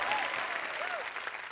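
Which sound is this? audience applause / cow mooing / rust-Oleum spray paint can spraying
audience applause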